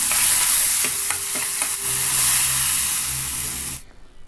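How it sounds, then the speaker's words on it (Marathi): Loud, steady sizzling of taro leaf vegetables added a little at a time to hot spiced oil tempering, with a few light clinks of a utensil, then the hiss cuts off abruptly near the end. "फोडणीत एकदम भाजी घालायची नाही अशी थोडी थोडी घालायची"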